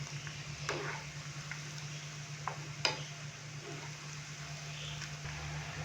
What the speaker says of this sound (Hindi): मीडियम से लो फ्लेम पे हमने बीफ को फ्राई करना है